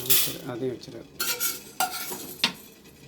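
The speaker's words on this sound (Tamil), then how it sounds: "கடலைப்பருப்பு போட்டு இதே மாதிரி வறுத்துக்கோங்க" Chana dal dry roasting in a pan for kandi podi, with scraping stirs and rattling lentils in a few distinct bursts, close and moderately loud.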